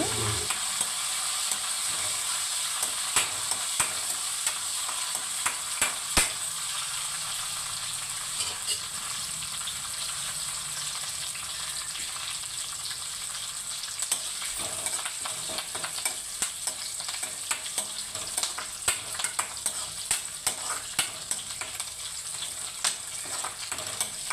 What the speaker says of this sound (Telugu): జీలకర్ర ఆవాలు కరివేపాకు అయితే వేస్తున్నానండి ఇప్పుడైతే పోపు అయితే వేపుకోవాలి